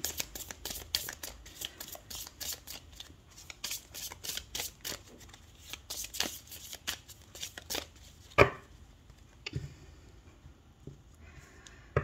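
Oracle cards shuffled for a tarot-style reading, a long run of rapid, close riffling flutters and soft slaps, then a sharper snap and a few quieter card handling sounds near the end.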